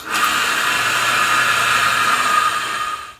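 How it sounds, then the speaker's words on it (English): An old Harbor Freight metal-cutting bandsaw running steadily for about three seconds, a close, loud, even mechanical whine with a bright high-pitched tone that winds down at the end, no speech. "this is the old Harbor Freight metal cutting bandsaw I've had for 35 years probably. It still works."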